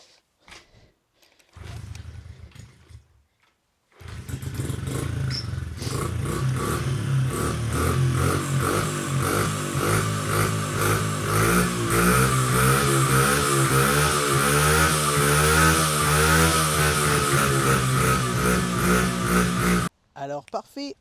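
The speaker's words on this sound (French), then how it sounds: "on a réussi à redémarrer les deux motos" Honda CRF 50 minibike engines restarted after repairs, a brief start-up burst followed by a loud, buzzing small-engine idle that rises and falls in repeated revs for about fifteen seconds before cutting off abruptly.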